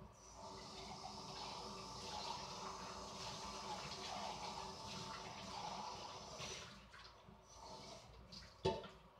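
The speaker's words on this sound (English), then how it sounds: "You're hearing me rinse those cans out as after I dump them." Running water rinses out emptied food cans at a sink, a continuous faint splashing wash with light metallic clinks and one sharp knock near the end.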